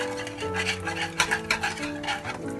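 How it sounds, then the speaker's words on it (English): A spoon stirs an almond mixture in a metal pot for a Badam Pak sweet, making repeated scraping and clinking strokes in an uneven rhythm, close and fairly loud, with no talk. "So first we mix this nicely."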